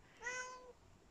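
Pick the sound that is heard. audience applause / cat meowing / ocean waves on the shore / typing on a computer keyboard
cat meowing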